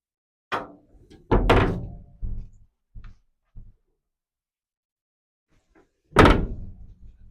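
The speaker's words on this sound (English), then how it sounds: "Close these hatches." Houseboat storage hatches on a 2003 Funtime 16 x 70 houseboat shut with a few dull thunks and knocks, close by, separated by short pauses, followed by a final louder slam.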